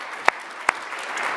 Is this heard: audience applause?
yes